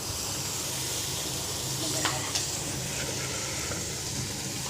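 Anchovies go into hot water with a continuous hiss and sizzle, steady throughout with a couple of brief crackling spikes midway, moderately loud and close.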